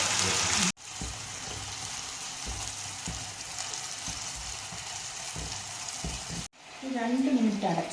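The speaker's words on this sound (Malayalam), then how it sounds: "ഇതാ നമ്മൾ നേരത്തെ അരച്ച് വെച്ച പേസ്റ്റ് ആഡ് ചെയ്തു ഇതൊന്ന് കറക്റ്റ് മിക്സ് ആക്കിയിട്ട്" Ground paste and onions frying for a soya chunk curry, a steady close sizzle with soft stirring scrapes, broken by two short cuts, and a voice talking over the last moments.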